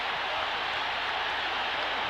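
A packed boxing arena roars after Muhammad Ali beats Leon Spinks to take the world heavyweight title for the third time, a dense, continuous wall of cheering and applause with no break.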